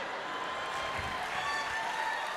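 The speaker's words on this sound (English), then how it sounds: "And the crowd goes wild." Audience applauding for comedian Gina Brillon, a steady, dense wash of clapping that holds at an even level throughout, with no voices on top.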